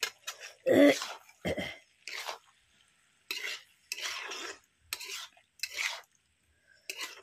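Okra, potato and borali fish being stir-fried together in a pan, heard as short, separate bursts of scraping and sizzling between quiet gaps, with what seems like a throat clear near the start.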